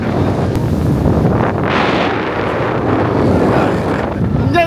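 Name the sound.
boat ride on the water with wind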